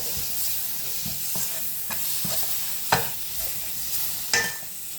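Tomatoes stirred into frying mushroom curry in a pan give a steady sizzle, with repeated scraping strokes of a spoon and a couple of louder clinks, close and without talk.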